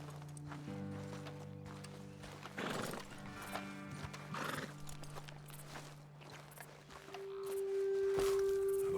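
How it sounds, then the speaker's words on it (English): Horses in the Red Dead Redemption 2 video game whinny and snort close by, with hooves shifting and clopping on the ground; a brief voice is heard. "Best leave the horses back a bit"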